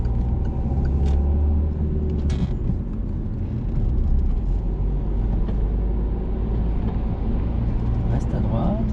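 A car drives on the road during a driving lesson, its engine a steady, loud, close rumble for the whole stretch, with voices talking inside the cabin.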